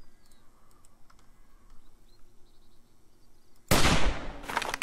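A single loud gunshot in 7 Days to Die kills a bear. It bursts out suddenly near the end after a quiet stretch of faint keyboard clicking, and its echo trails off.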